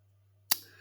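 A single sharp computer mouse click sounds at close range against a steady low electrical hum, followed by faint room noise.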